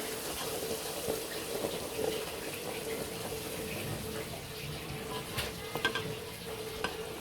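Garlic cloves fry in mustard oil for an olive pickle, making a continuous crackling sizzle with scattered pops and the scrape of stirring throughout.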